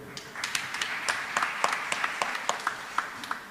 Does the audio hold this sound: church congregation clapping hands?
yes